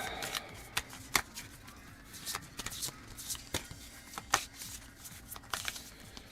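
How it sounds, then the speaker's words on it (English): Cards for the Something Shiny board game being shuffled by hand, close and fairly quiet, with repeated riffling bursts and sharp snaps of the deck at an uneven rhythm. "It's shuffle time."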